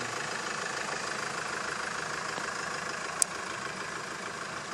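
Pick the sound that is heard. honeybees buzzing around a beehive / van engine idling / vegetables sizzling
van engine idling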